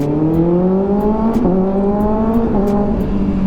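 A 2024 Kawasaki ZX-6R motorcycle engine hums at steady, fairly high revs, close and loud, with a brief pitch dip and recovery midway and a few faint clicks above.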